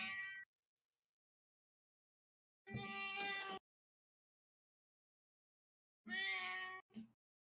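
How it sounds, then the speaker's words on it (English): A house cat named Abby meows three times at close range, each cry separated by a few seconds of silence, the last one breaking off into a short extra chirp. "Everybody say hi to Meteor's cat."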